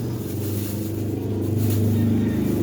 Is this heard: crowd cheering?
no